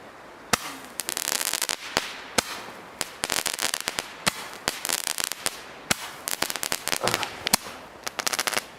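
Rapid bursts of firework shots from a Mysterie 20-shot 25mm cake launcher fire in uneven volleys, sharp loud cracks coming in clusters with brief pauses between them, some shots misfiring.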